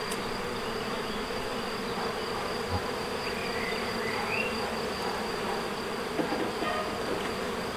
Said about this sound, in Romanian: N-am multe albine, numai 3 familii.